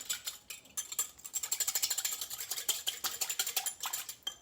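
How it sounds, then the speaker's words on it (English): Rapid, rhythmic whisking of a balsamic vinaigrette with salt and pepper in a bowl, a close, bright clatter that speeds into a steady beat. "And then just whisk that together."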